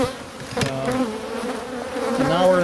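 Honey bees buzz around an opened hive during a honey harvest, a dense close humming drone with individual bees' wingbeat tones wavering in pitch as they fly past the microphone, with no talking.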